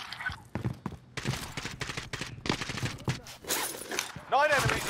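Gunfire crackles in the video game Warzone in bursts and single cracking shots, mixed with impacts and in-game sounds. Players talk throughout, loudly and excitedly.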